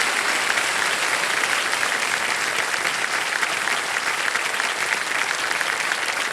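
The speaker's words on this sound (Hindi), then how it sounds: "हाँ, ताली बजती रहे।" Sustained studio audience applause on a TV quiz show fills the whole stretch, dense and even, with loud, steady clapping and no break.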